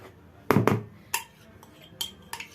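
Spoon stirring flour and buttermilk dough in a bowl, a handful of sharp clinks and scrapes against the dish, two close together and then several spaced taps, quiet between.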